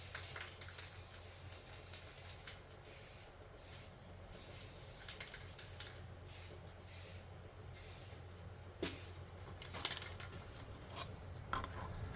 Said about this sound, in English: let's do one last coat with that red primer